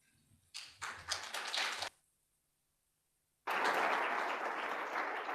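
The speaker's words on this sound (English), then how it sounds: "We have applause even before we started." Panel audience applause in a conference room, a short burst of clapping that stops, a moment of near silence, then a fuller, steadier round of applause resumes and carries on.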